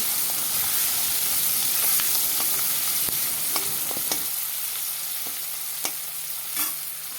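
Onions hit hot oil in a kadai and crackle into a steady, loud sizzle, with stirring clinks and scrapes scattered over the frying hiss.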